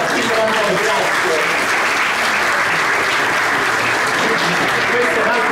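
Audience applause at a press conference, a steady, dense burst of clapping that runs loud and unbroken throughout.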